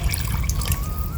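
Water pours into a pot of finger millet porridge, a close, continuous splashing trickle lasting about a second.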